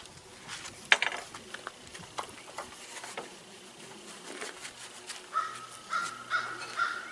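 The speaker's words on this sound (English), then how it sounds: "Neighborhood crow." A neighborhood crow caws repeatedly outdoors, the calls coming at a steady rhythm toward the end, over a patter of background noise and a few sharper knocks.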